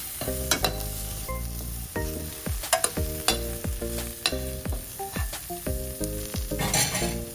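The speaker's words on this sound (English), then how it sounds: "Add salt to taste, mix and saute for a minute." A vegetable mixture with cumin powder, chilli and salt sautés in a pan, with constant close sizzling broken by repeated clanks and scrapes of a spoon stirring against the metal.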